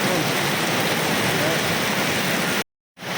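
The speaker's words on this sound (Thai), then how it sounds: "ท่ามกลางสายฝนตกหนักนะฮะ" A heavy downpour in Siem Reap during an evening meal makes a loud, dense, unbroken roar that cuts off abruptly near the end and then resumes.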